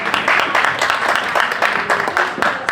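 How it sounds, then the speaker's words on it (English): An audience at a research meeting claps after lunch announcements, a moderate, slightly uneven patter of many hands heard up close and continuing steadily for a few seconds. "Round of applause for Constantine."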